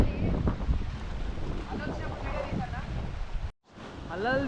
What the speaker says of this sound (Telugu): అలలు చూడండి ఒకసారి ఎట్లా వస్తున్నాయి